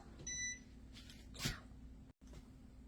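A kitchen oven timer gives a few short electronic beeps while being set, faint and close, with light handling clicks in between.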